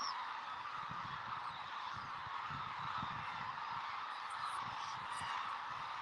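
Cranes call at dawn at a roosting water pool in Izumi, Kagoshima, a dense, distant chorus of overlapping honking cries that fills the air continuously.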